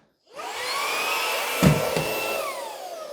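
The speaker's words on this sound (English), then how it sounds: "So using the Shark Wandvac as a handheld, it did remove the rest of the white creatine powder from the black carpet." A Shark Wandvac handheld vacuum cleaning white creatine powder from black carpet switches on with a rising whir, then runs as a steady high motor whine with a brief bump midway.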